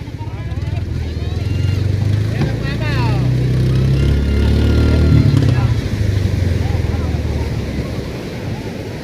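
A boat pushes through big sea waves, with loud, steady wind-blown roar of surf and engine filling the whole stretch, swelling slightly in the middle; voices talk faintly over it.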